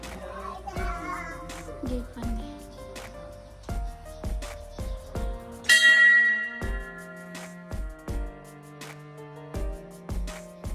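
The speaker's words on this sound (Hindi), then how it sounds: "यहाँ उसके नाना बजवा रहे थे इनसे मंदिर की घंटी बार बार" A temple bell at a Hindu shrine is struck again and again, the ringing strikes repeating at an uneven pace and leaving long metallic tones, with children's voices in the background.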